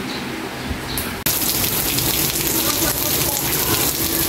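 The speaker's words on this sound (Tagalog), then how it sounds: "Ganito lang po yung ulan." Heavy rain pours steadily as a dense, hissing wash. It jumps suddenly louder a little over a second in and then holds at that level.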